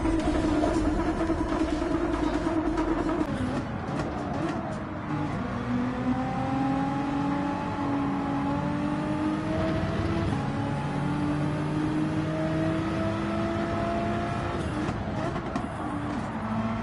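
A GTR race car in a racing video game accelerates through its gears, the engine's rising whine climbing, dropping at each shift and climbing again, loud and steady with no talk over it.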